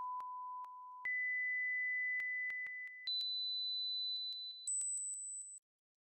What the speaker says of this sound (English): I can hear all the tones, so we need to keep going lower.